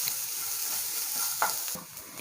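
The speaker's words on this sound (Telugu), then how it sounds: "ఇదంతా బాగా మిక్స్ చేసుకొని 1 నిమిషం పాటు ఫ్రై చేసుకోవాలి." Tempering ingredients with a pinch of asafoetida fry in a pan for instant rava idli, a close, steady sizzle marked by brief scraping stirs.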